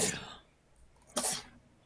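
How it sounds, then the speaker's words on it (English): Two sneezes, a sharp one at the start and another about a second later, close and fairly loud with quiet between them. "How many times are you gonna sneeze?"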